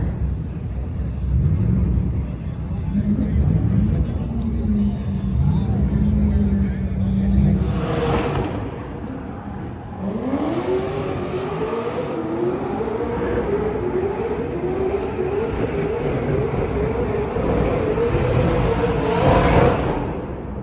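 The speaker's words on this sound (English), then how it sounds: "Some more of that burnout competition going on in the background." Cars revving and spinning tires in a burnout competition at the SEMA car show, a continuous loud engine roar with rising revs, heard from nearby outdoors while people talk.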